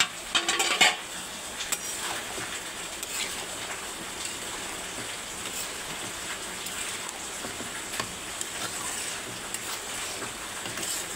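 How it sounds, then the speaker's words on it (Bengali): Vegetable curry being stirred in a pot, a soft continuous scraping and bubbling hiss with a louder clatter of utensil against the pot near the start, then a steady low simmer without talking. "আমি একটু নাড়াচাড়া করে নিই এটা"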